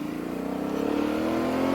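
Suzuki V-Strom 650 motorcycle on a test ride, its engine note climbing steadily as it accelerates, a smooth rising drone growing louder throughout with no talking.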